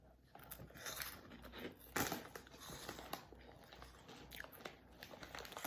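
Potato chips being eaten, with faint, close crunching bites and chewing in irregular bursts, without talk.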